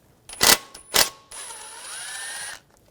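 A ratchet with a T30 socket loosens the valve cover screws on a 2004–2009 Audi A4 Quattro 2.0L four-cylinder, giving two sharp bursts of ratcheting clicks followed by a longer run of whirring mechanical clicking, close and alone.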